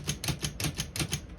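The backspace key on an Olivetti Lettera 32 portable typewriter is pressed over and over, making a quick run of about ten close mechanical clacks in an even rhythm.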